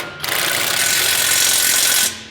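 Ratchet wrench tightening bolts during a lowering kit install on a 2025 Ford F-150, a loud, steady, close-up clicking burst lasting about two seconds with no talk.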